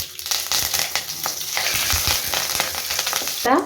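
Garlic, dried red chillies, curry leaves and spices frying in a little oil for pepper rasam, a steady crackling sizzle with some stirring scrapes, close and alone, with a brief sharper clatter at the end.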